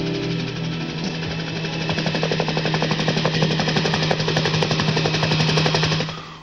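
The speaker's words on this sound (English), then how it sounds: "A National Guard helicopter on search and rescue spotted them." A National Guard helicopter flies a search and rescue mission over the Mount St. Helens eruption area, its rotor beating in a loud, steady, rapid chop with a constant engine drone that grows slightly louder.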